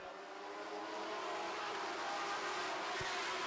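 Lightning sprint cars roar together at the start of a feature race, a dense, steady engine drone that stays loud and even with a brief low thump near the end.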